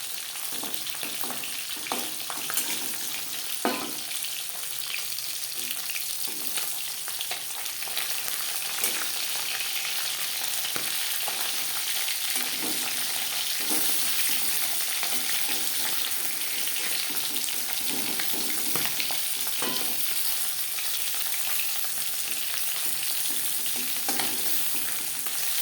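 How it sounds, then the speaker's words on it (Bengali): Fish fries steadily in a pan for a Bengali amish thor bhaja, a continuous close sizzle with crackling oil pops and occasional clinks of stirring throughout, no talking. "মাছ ভাজা হয়ে গেছে"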